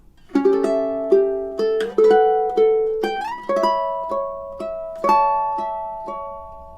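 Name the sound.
ukulele playing classical melody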